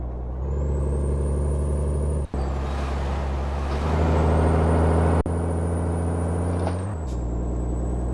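A Freightliner FLD 120 truck engine in Euro Truck Simulator 2 drones steadily with a high whine above it, broken by two sharp hisses like air brakes releasing.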